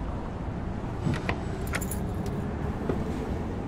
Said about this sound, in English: Getting in the truck, door closing, seatbelt on, key in the ignition.